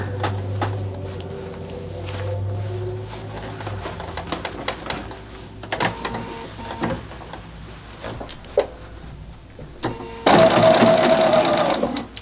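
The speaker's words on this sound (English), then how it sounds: "now I'm just going to sew along that line" Sewing machine stitching along a marked line on a zipper pouch, its motor whirring in short bursts with pauses and handling clicks between, ending in a louder sustained run of stitching.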